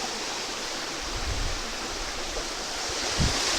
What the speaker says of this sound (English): There's a little river.